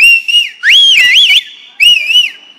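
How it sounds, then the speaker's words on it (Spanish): A person whistles a lilting, wavering tune in three close, loud phrases separated by brief pauses. "So I started whistling."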